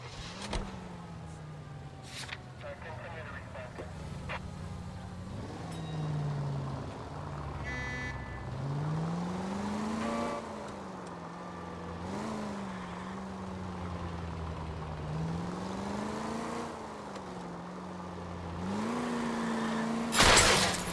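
Car driven in a video game, a continuous engine drone whose pitch rises and falls with repeated gear shifts and acceleration over about twenty seconds, with occasional clicks and knocks on top.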